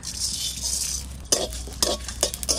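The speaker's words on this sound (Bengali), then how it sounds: "শুকনো কড়াইতে একটু জিরে, তেজপাতা আর শুকনো লঙ্কা ভেজে নেব।" Cumin seeds, a bay leaf and dried chillies dry-roast in a dry pan, with scraping stirs and short crackling bursts over a steady low hum, close and moderately loud, with no talk.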